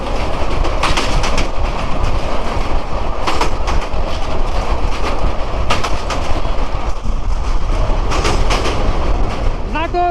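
The Burimari Express rumbles steadily past on the Ishwardi bypass curve in Bangladesh, close and loud, with rhythmic clatter from the wheels and a brief squeal of wheels near the end.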